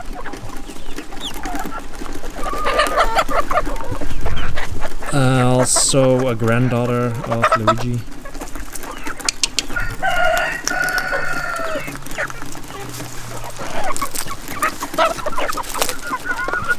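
Bantam hens, including a red mottled one, cluck and crow nearby in a coop, with one long loud crow and scattered softer clucks while a person talks.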